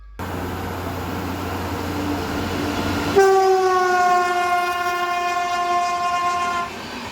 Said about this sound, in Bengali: সামনে থেকে আসছে one two seven zero three ফলাকনামা express